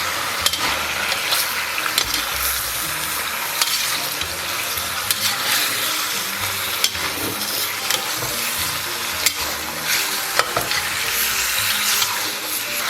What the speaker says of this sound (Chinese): 咱们把羊肉给它下里边。 再给它反复煸炒一下